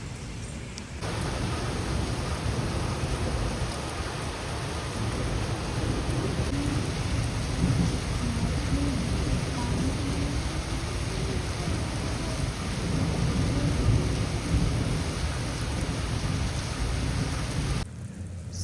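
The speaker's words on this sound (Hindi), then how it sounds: "मस्त बारिश हो रही है" Steady rain pours down continuously, a dense hiss with a low rumbling undertone, loud and unbroken from start to finish.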